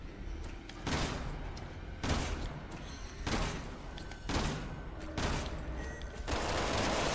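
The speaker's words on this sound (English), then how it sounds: "You're just shooting at the wall." Shotgun blasts in the video game Resident Evil 6, five heavy booming shots spaced roughly a second apart, loud and close over a continuous game background.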